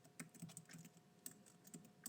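A computer keyboard is typed on in quick, uneven bursts of soft clicking keystrokes, close by and faint, with no talking.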